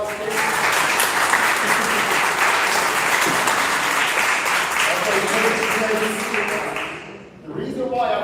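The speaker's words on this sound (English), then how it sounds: "Women in this room, can you give these men a round of applause, please?" Women at a bank-sponsored workshop give a loud, sustained round of applause with scattered cheers. The clapping holds strong for about seven seconds, then dips briefly before a short burst resumes.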